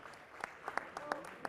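Scattered, faint applause from the crowd at a Serie A rugby match between Verona Rugby and Ruggers Tarvisium, heard as sparse separate claps at a distance as a player leaves the field.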